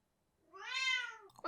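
A single drawn-out cat meow, clear and fairly close, rising and falling in pitch for about a second before a brief rustle at the end.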